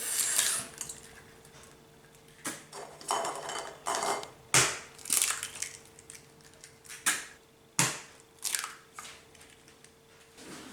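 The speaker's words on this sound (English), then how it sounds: "and then I'm gonna crack the egg into it." An egg is cracked against a bowl holding melted butter and vanilla, giving a series of sharp clinks and taps with brief crunchy breaks and small handling knocks, fairly close and with no talking.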